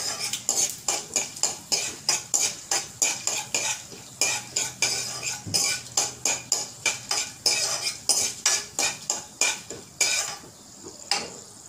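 Dry red chillies and curry leaves are stirred in a pan with a metal spoon, giving a fast, steady run of loud scraping clacks against the pan over a faint sizzle, with no talking.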